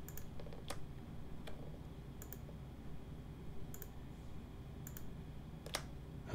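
Sharp mouse clicks on a computer during Photoshop selection work, a few isolated taps spread over a quiet room tone with no talking.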